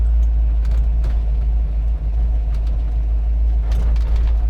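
A 1967 Ford Mustang Fastback GT rolls along, heard from inside the car as a loud, steady low engine and road rumble with faint clicks above it.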